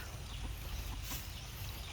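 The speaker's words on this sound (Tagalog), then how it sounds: "nakita tayo ng mga alaga nating manok na ito eh talaga namang salubong na sila lahat ayan pati mga sisiw" Pet hens and their chicks cluck together in a rain-soaked backyard, a steady, close, busy flock chatter over a low rumble of wet ambient noise, with no voices.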